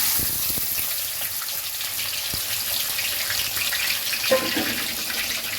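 Bay leaf, whole garam masala and chopped onion dropped into hot oil, producing a steady, hissing sizzle with a gushing, watery texture, moderately loud and continuous with a brief bump near the end.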